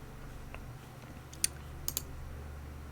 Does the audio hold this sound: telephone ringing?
no